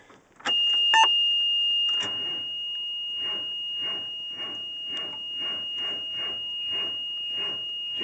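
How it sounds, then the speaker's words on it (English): A 335 engine cranks on a cold start: a warning chime sounds, then the starter turns over in a steady rhythmic churn for several seconds under a continuous high tone. "Oh, she's cranking."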